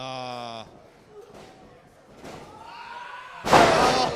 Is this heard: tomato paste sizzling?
no